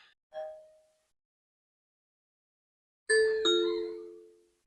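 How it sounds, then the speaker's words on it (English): A Wyze smart doorbell chime played through an Amazon Echo announcement speaker indoors, with a short faint tone first, then two clear, ringing ding-dong notes that sustain and slowly fade in an otherwise silent room. "Someone is at the doorbell."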